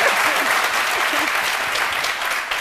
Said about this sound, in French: Applaudissez un peu pour elle, s'il vous plaît.